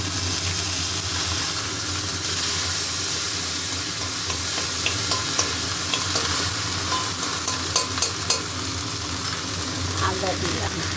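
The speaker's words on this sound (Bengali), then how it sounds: "বড়িগুলো ভালো করে ভেজে নিলাম, এবারে দিচ্ছি আদা।" Bori lentil dumplings frying in a pan, with ginger added, give a continuous close sizzle broken by scraping stirs and scattered small clinks of a spatula, steady throughout with no talking.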